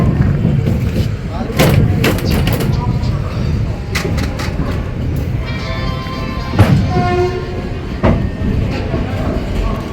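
Train pulling in at platform 6 of a busy Kolkata station, with heavy thuds, clanks and rumbling amid the crowd, and people talking throughout.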